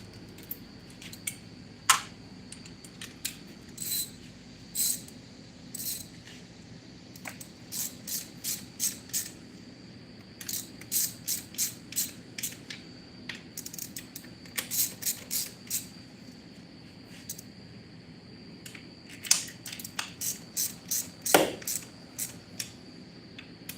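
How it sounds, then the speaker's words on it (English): A hand ratchet tightens down an engine valve cover, its clicking coming in repeated bursts of quick pawl ticks with short pauses between, close and clear with no talk. "I gotta tighten down my valve cover"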